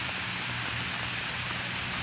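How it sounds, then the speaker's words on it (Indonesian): Light rain falling steadily at an outdoor grave site, a soft continuous hiss of drops close by with no other sounds over it. "ini udah mulai hujan terus di sini"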